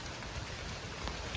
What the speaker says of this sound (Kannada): ಮಳೆ ಜೋರಾಗಿ ಬರ್ತಿದೆ, ಅದಕ್ಕೆ ನಿಂತಿದ್ದೀವಿ ತೋಟದಲ್ಲಿ